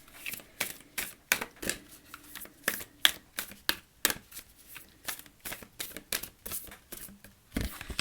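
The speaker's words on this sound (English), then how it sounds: "let's pull an oracle card" An oracle card deck being shuffled by hand, a close series of crisp, irregular riffling bursts and soft card slaps spread over several seconds, with no talking.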